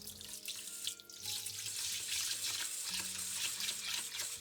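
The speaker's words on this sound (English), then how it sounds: "Okay, I add the water again." Tap water runs steadily into a bowl of rice being washed, a continuous bright splashing stream that fills the whole stretch at close range, with no voices.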